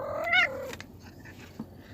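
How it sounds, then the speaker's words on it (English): A house cat gives one short, close meow, then falls quiet, leaving faint room noise and a couple of soft thumps. "Pardon the cat. She's part of the episode today."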